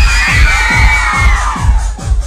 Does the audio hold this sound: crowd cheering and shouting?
yes